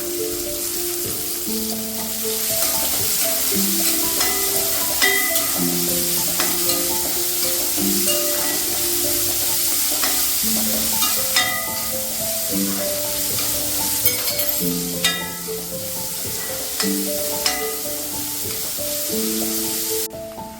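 Finely chopped onions fry in oil with bay leaf and whole spices for a potato curry. There is a steady, loud sizzle with occasional stirring for the full length, and soft tonal music runs underneath.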